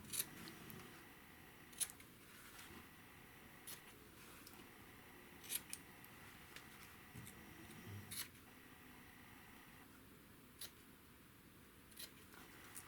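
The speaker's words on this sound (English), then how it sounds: "Now I'm going to cut off these nubs." Scissors snipping off fabric seam nubs on a pieced quilt block, a handful of quiet, sparse, crisp cuts spaced a second or two apart in a hushed room, with no talking.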